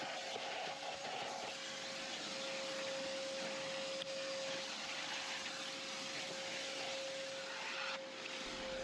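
A Nilfisk Buddy 212 vacuum cleaner with a dusting brush runs as a steady, even whir and hiss with a constant high tone, unbroken for the whole stretch and heard without speech.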